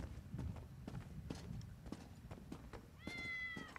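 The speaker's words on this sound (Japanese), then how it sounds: "お、にゃんこ。" A cat in The Elder Scrolls Online, on High Isle, gives a bright meow near the end, with footsteps and ambient game noise earlier.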